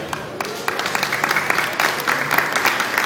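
A crowd applauds an aikido demonstration steadily for about three seconds, dense clapping with a few sharper claps and faint background voices.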